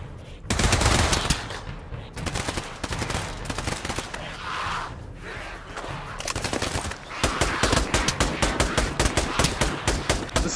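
Pistol gunfire in the video game Pavlov: dense, rapid shots ring out loud and close almost without pause, with a brief voice mixed in beneath the firing.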